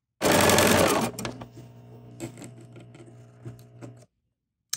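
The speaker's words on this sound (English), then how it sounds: "we're going to just sew this one to this one, then this one to this one, and these 2 together using your favorite 1/4 inch foot" A sewing machine stitches patchwork quilt pieces together with a quarter-inch presser foot: a loud, dense burst of rapid stitching for about a second, then quieter intermittent whirring and mechanical clicks until it stops.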